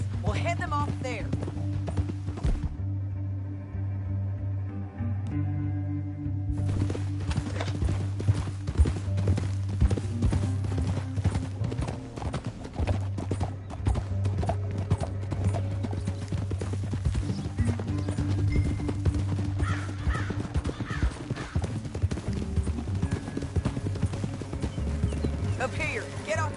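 Rhythmic clip-clop of several horses' hooves galloping steadily in Red Dead Redemption II, with a continuous musical score underneath and a brief quieter stretch near the start.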